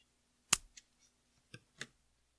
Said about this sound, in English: then we can cut the strings